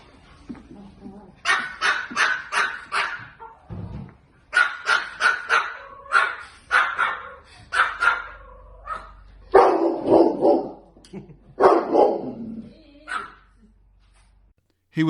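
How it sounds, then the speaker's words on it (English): A big pit bull barks in a barking contest with a Pomeranian on Fox 29 News in San Antonio, Texas: loud, close bursts of repeated barks in several rapid groups with short pauses between them. "BGK's Handsome monster was first featured on Fox 29 News in San Antonio, Texas for a barking contest with a Pomeranian"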